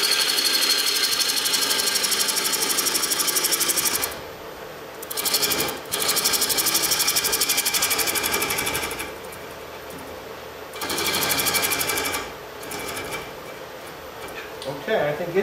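A gouge cuts a walnut bowl on a wood lathe, working across end grain on the bowl's bottom. It makes a loud, steady rasping scrape that stops and restarts several times.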